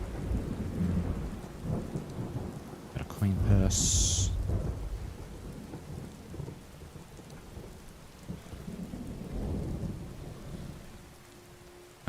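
Rain and rolling thunder from a storm in the game Skyrim, with a sharp crack near the four-second mark and steady rainfall throughout, under intermittent talk.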